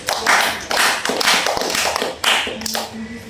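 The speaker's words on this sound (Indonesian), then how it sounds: "Beri tepuk tangan untuk kalian sendiri." Students in a classroom clapping for themselves, several short bursts of hand clapping rising and falling in waves, fairly close and loud, with a voice briefly heard among them.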